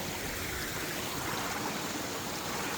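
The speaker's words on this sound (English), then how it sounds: "Waterfall." A waterfall in a Washington rainforest gives off a steady, close, broadband rush of falling water that stays even and unbroken throughout, with no voices.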